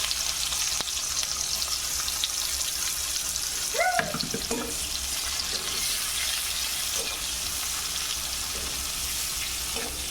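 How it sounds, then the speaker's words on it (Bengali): Chopped onion and whole garlic cloves frying in oil make a soft, even sizzle, with a brief clink of a utensil near the middle and no voices. "পেঁয়াজ ভালোভাবে ভেজে নেব।"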